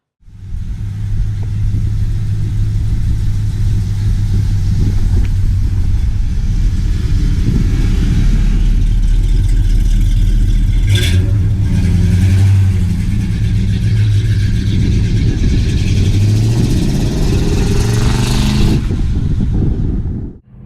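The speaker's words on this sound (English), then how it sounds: "Let's take our rotisserie restored Charger for a ride." Rotisserie-restored 1970 Dodge Charger driving, a loud, close, steady engine rumble that swells as it accelerates, with no talking.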